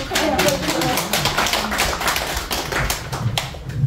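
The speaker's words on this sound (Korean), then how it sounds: "다 같이 박수 치면서" A group at a Buddhist dharma gathering claps hands together in a steady rhythm, loud and close, continuing under ongoing voices throughout.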